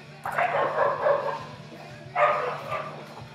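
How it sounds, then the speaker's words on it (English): Dogs barking in two bursts of rapid, yappy barks, the first lasting about a second and a half and the second coming after a short pause, heard from a moderate distance indoors. "if you can still hear the dogs"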